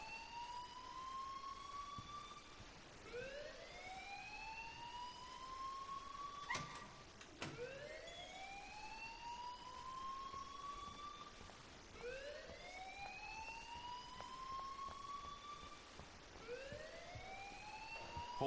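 In the video game Life is Strange, a wailing alarm siren rises and falls in repeated sweeping cycles. It is steady and fairly distant, and there is no talking.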